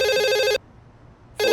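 A telephone at a hotel reception desk rings loudly with an electronic trill, one long burst, a pause, then the start of another ring, with no talk.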